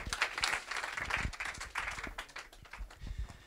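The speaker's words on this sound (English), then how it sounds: "Give John a round of applause." Audience applause for a volunteer at a business keynote after a card trick, a steady patter of many hands clapping at moderate volume throughout, with a faint voice underneath.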